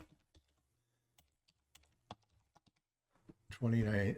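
Scattered, faint keystrokes tap on a computer keyboard for about three seconds, and a voice speaks over the end.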